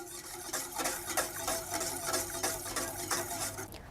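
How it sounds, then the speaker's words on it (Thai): Tapioca starch being stirred into coconut milk in a pot with the heat off, while making coconut ice cream; a soft, rhythmic swishing and scraping repeats steadily, close and fairly quiet. "เราจะคน ส่วนผสมของแป้งมันแล้วก็น้ำกะทิให้เข้ากันก่อนค่ะ"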